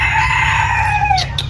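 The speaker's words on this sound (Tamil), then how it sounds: "ஆமாம், சேவல் இருக்குது" A rooster crows once in a single long, loud, close call that trails off near the end, heard at a pets and birds park at a zoo in Trichy, with no talking.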